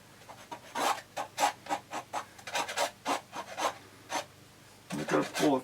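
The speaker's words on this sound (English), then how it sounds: "I'm going to pull a few scrapes." A knife scrapes across wet watercolor paint on paper in a quick series of about a dozen short, dry rasping strokes, close and fairly quiet, with a brief pause before a final cluster.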